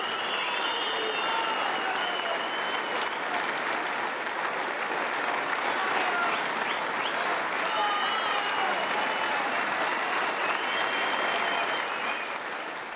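A large snooker crowd applauds world champion John Higgins at the Embassy World Championship, a dense, sustained roar of clapping that stays loud and steady throughout, with faint voices mixed in.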